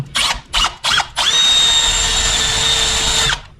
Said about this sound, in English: all you do is take your step drill on a piece of wood